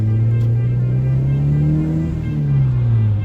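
A car on a race track, driven by an eco-driving specialist, gives a loud, steady engine drone that rises and falls slightly in pitch as it accelerates, heard from close by and without voices.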